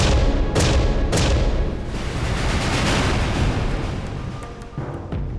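Heavy gunfire in a dense, continuous barrage, with sharp loud cracks near the start standing out over a rumbling, echoing background.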